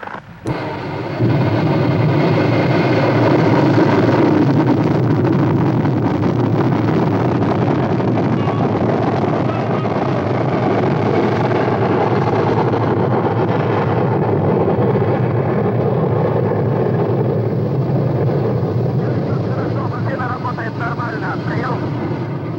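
Ignition and liftoff of a Vostok rocket at launch, a sustained loud, broad engine roar that builds suddenly after a brief start and holds steady throughout, with voices faintly audible beneath.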